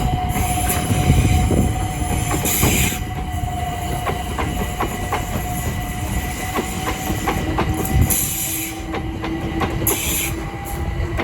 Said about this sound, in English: Now departing is the 1353 London Overground service from Watford Junction to London Euston, 378 217.